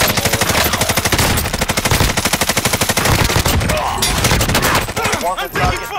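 Sustained automatic gunfire from a video game firefight hammers along in rapid, loud bursts for several seconds, then breaks into scattered shots near the end. Voices shout over the shooting.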